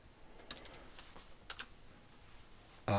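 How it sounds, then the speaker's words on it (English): Someone types on a computer keyboard, a few quiet scattered key clicks in small bursts over faint room noise, ending with a sudden louder burst. "I gotta type in, I can't see my keyboard"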